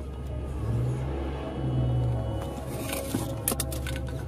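A car in a horror video game drives forward, its engine humming steadily with low rumbling surges and a faint whir, alone with no talk.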